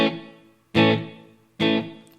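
Three loud distorted electric guitar chords strike in turn, each ringing out and decaying with a light trail of reverb before the next.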